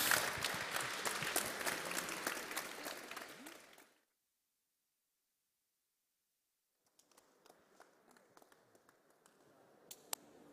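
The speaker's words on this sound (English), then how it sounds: "Applause." Audience applause at a European Resuscitation Council event, loud and dense for about four seconds and then cutting to silence, with a few scattered, fainter claps returning near the end.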